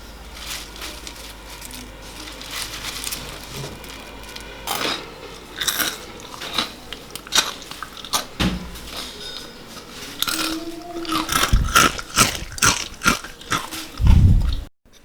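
Homemade potato chips bitten and chewed, a series of crisp crunches close to the mic that grow louder toward the end, with a few soft clinks and no talk.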